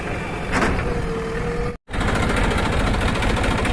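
A steady, rumbling tractor engine runs continuously at close range while the tractor is stuck, with a brief cut in the sound partway through.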